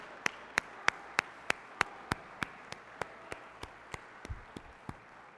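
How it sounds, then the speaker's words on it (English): A crowd applauds a guest minister at a religious gathering, giving a steady round of rhythmic clapping with sharp, evenly spaced claps standing out over the softer patter of the audience. "can we please give Brother Minister Marcus another big round of applause?"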